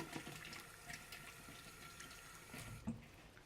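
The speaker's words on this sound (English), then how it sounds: "I'll wash my hands a bit." Running tap water at a kitchen sink while hands are washed, a soft steady splash with a few small irregular bumps, fairly faint and with no talking.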